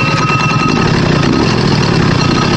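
A hybrid moped's small engine catches on the first try and runs with a steady, rough, rattling idle, loud and close throughout with no pauses.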